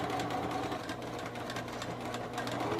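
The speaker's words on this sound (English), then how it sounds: "I'm going to come to the end and back stitch." A sewing machine stitches just above cardboard, a fast steady mechanical whir with rapid needle chatter, fairly faint and alone.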